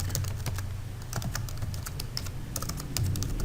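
Someone types C++ code on a computer keyboard in a quick, close, irregular run of clicky keystrokes with brief pauses, and no voice is heard.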